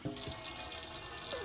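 Water runs from a tap in a Bailey of Bristol Vigo Black Edition caravan after the system is refilled, a steady close hiss and splash with faint gurgles throughout.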